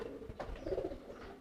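Pigeons, including a male, give a soft cooing call, faint and fairly near, heard alone in a quiet setting.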